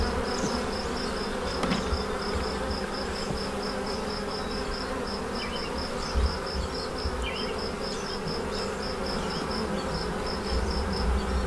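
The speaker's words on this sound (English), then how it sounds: "they're a young enough hive here, or swarm, that they will reorganize it." A young honey bee swarm settling into a new hive, giving off a steady, dense buzz at close range, moderate in level, with a few brief knocks and no voices.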